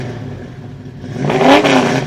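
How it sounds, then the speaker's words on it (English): A 1972 Dodge Challenger fitted with Flowmaster 50 Series Delta Flow mufflers revs up, its exhaust rising from a low idle into a louder, rumbling swell that holds steady near the end. "The 50 Series Delta Flow mufflers have a rumble to them, and you'll be heard when you arrive."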